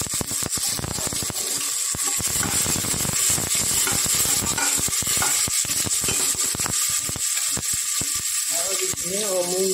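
Tomatoes fry in a pan in a home kitchen, giving a steady, loud sizzle with scraping and clattering from stirring throughout, and a voice may murmur faintly underneath.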